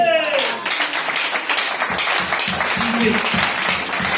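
Applause from a church congregation, a dense wash of clapping that holds steady for several seconds, with a voice heard over it near the start.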